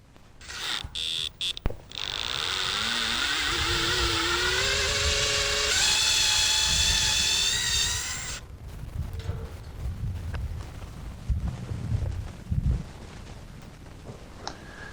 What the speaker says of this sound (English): First, we're going to take this bolt off.